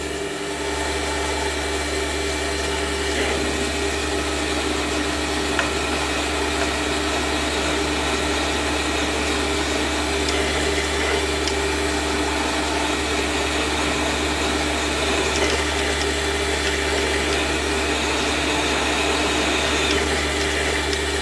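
A metal lathe runs while centre drilling the end of a workpiece: a constant loud motor drone with a low steady hum and busy mechanical whir, unchanging throughout and without talk.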